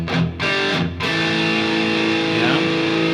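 A distorted electric guitar plays a short riff: a few choppy strummed hits, then a sustained ringing chord that holds to the end.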